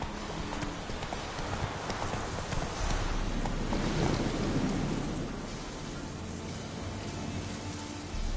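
Geralt's horse Roach walks in The Witcher 3 Wild Hunt, hooves clip-clopping steadily beneath heavy rain and rolling thunder.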